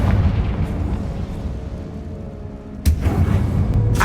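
A Confringo blast spell explodes in the Hogwarts Legacy video game, a loud rumbling burst that settles, then a second sharp crack and boom near the end.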